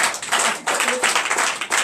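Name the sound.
church congregation applauding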